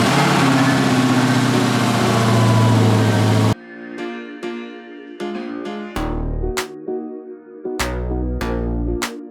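A Chrysler 300 fitted with a Redeye engine rumbles at idle in a deep, rough, loud drone, then cuts to several sharp revving blips and low surges, close by.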